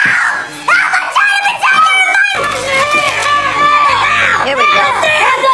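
A boy screams loudly for help in the 2017 film The Babysitter, with piercing, strained shouts and frantic cries that come in repeated bursts, loud and close, mixed with other excited voices.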